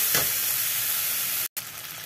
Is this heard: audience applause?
no